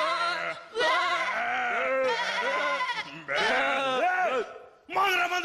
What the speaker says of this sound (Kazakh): Ауыл, өрістен қайтып келе жатқан қойлар.